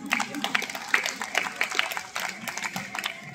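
Audience applause at a Sir Syed Day school celebration at AMU Girls School, moderate uneven clapping from a modest crowd with distinct individual claps standing out.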